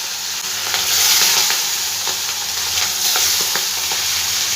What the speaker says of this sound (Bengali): এবার আমি মাছগুলো সব ভেজে নেব